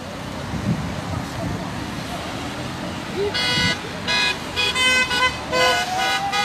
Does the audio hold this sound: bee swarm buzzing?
no